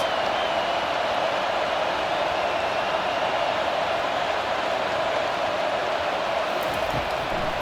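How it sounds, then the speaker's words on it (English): A football stadium crowd roars on third down at a Northwestern vs. Michigan college game, a loud, dense, unbroken wall of noise with no distinct voices. "Third down, and this crowd is tearing the lid off this place."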